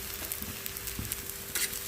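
Neem leaves and eggplant frying in a pan, a short burst of steady close sizzle with a few light stirring clicks and no voice.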